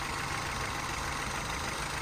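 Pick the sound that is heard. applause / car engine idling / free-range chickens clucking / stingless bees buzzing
car engine idling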